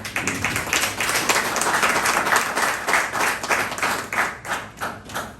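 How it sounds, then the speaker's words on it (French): An audience applauds, a dense wash of clapping that swells and ebbs in waves throughout, with no speech over it. "Je vous demande à l'assistante d'applaudir."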